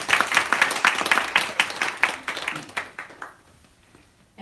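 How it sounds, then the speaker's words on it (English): An audience applauds at the opening of an event, brisk clapping that is fairly close and thins out, fading to near silence over the last second. "Applause to everybody."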